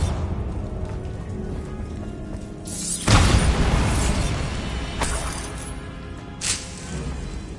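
A Bombarda explosion spell in Hogwarts Legacy bursts with a loud boom and a shattering crash, followed by debris rattling down and a smaller blast a few seconds later.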